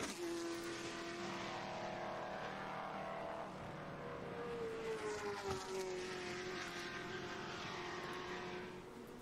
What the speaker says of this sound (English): it's a GT40 going around Goodwood